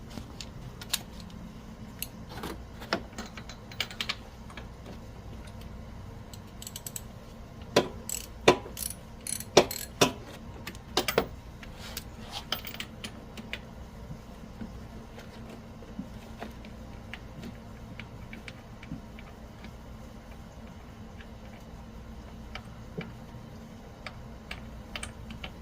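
Spark plug being removed with a 5/8 socket on a GY6 50cc scooter engine, faint ratchet clicks and metallic taps in scattered bursts, close by against a quiet background.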